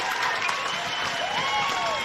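Home crowd at an amateur Australian football preliminary final, Redland-Victoria Point against Morningside, cheering and clapping after a goal, a broad sustained roar from a distance with a commentator's voice over it.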